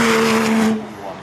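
A GT race car on the Hébécrevon hill climb course roars past close by in a brief loud engine burst that quickly fades, with a commentator talking over it.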